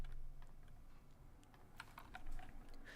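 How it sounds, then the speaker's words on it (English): Rapid, light clicking from an off-brand mechanical keyboard bought on Amazon, quiet close-up keystrokes in an uneven typing rhythm with no voices. "It's actually kind of off-brand sort of mechanical keyboard from Amazon"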